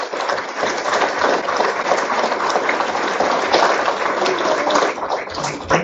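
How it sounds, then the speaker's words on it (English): Audience applause fills a school board meeting room, a steady, dense wash of many hands clapping at close range that holds throughout without a break. "round of applause to these two guys."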